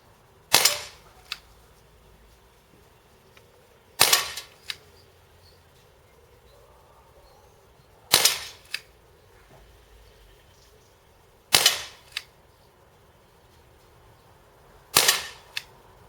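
Dan Wesson 715 revolver fired at a shooting range: five sharp, loud gunshots spaced a few seconds apart, each with a brief echo, no talking between them.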